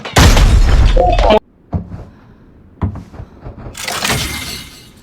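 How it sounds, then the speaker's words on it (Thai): A loud, sudden grenade blast with a crackling burst opens in the video game Arena Breakout, followed by quieter thuds and scattered impacts, then another swelling rumble of noise near the end. "โยนระเบิดเข้ามา"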